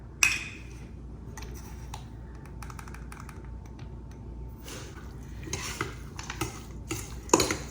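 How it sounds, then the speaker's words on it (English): Spinach being stirred by hand in a bowl with salt, allspice and juice while the clumps are broken up, a filling for spinach and lamb sfeeha; intermittent soft scrapes and light utensil clicks against the bowl, close and fairly quiet, with no talking. "And you just stir it up good."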